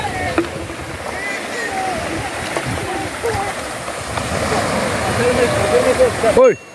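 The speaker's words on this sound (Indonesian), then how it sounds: "Inilah suasana pantai Maras pada hari ini." Seawater splashes and churns at Maras beach in a continuous, moderately loud wash with occasional sharper splashes, while people talk nearby.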